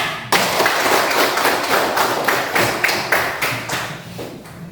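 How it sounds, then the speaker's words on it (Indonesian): Classroom applause for a student group during a peer-teaching session, a dense, loud patter of clapping hands with rhythmic thumping beats running throughout. "Kita kasih aplaus kepada kelompok 4"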